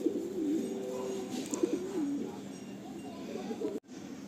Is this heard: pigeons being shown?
yes